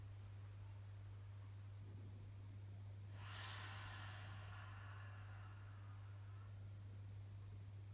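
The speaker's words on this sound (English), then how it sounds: "Deep breath in" A single deep breath drawn in during a relaxing breathing exercise, a soft airy inhale lasting a few seconds over a steady low hum, quiet and close.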